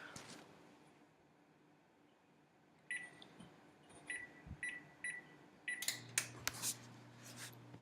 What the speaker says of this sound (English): we're going to set our oven to preheat at 350 degrees